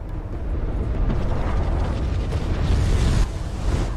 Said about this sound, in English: So there's the missile barrage.